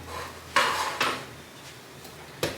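A spice grinder and a bowl are set down on a kitchen counter while a Mexican mole spice mix is made, giving two or three sharp clinks and thuds that stand alone in a quiet room.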